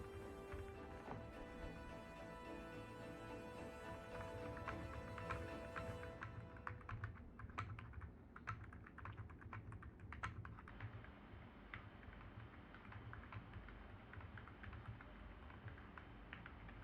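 Typing on a computer keyboard that has a knob, a steady rapid run of close, fairly quiet key clicks lasting throughout.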